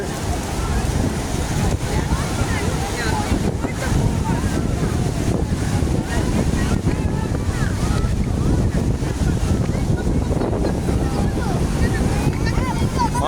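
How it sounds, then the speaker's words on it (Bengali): Sea waves at Digha beach, a continuous loud wash of surf mixed with heavy wind buffeting the microphone, with faint voices in the background. "আপনাদের লাইভ দেখাচ্ছি দীঘা সমুদ্রের লাইভ"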